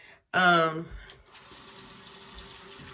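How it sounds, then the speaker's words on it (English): Water runs steadily from a tap into a sink as a constant hiss. A loud voice cuts in briefly near the start. "I don't want the water in the video and y'all hear all that"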